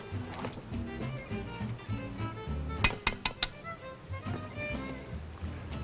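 A spoon stirs ground nutmeg and mace into a chicken and potato korma in a pot, giving a quick run of bright metallic clinks against the vessel over a steady background hum.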